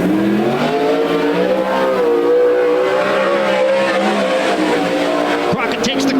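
Sprint car engine at a World of Outlaws dirt track race at Willamette Speedway, a loud sustained high-pitched roar with rising and falling revs, heard under an announcer's voice.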